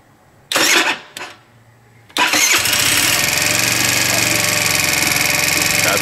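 A four-stroke 50cc scooter engine converted to 90cc cranks in two short bursts, then catches and settles into a steady, loud, close idle that runs without a break to the end.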